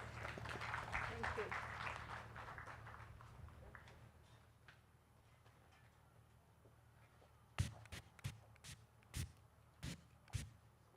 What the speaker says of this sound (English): A big round of applause for Madame Martha Muhwezi